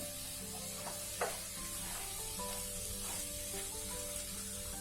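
Spinach puree being stirred into sizzling green pav bhaji crackles steadily at close range, with a few soft spoon scrapes and no talking, a faint tone running underneath.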